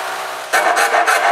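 Jigsaw blade cutting holes in plywood for a dust filtering system, heard as a brief quiet lead-in followed by loud, close, rasping strokes in quick rhythmic pulses.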